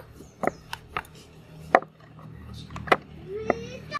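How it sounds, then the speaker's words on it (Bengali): Wooden rolling pin knocking and thudding irregularly on a wooden rolling board while flattening rose pitha dough into rounds, sharp close taps over a quiet room with faint voices in the background. "চাটু বেলন নিয়েছি, আর এটা রুটির মতো বেলে নেব।"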